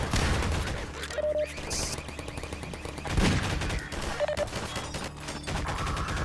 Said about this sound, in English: I swear there's turrets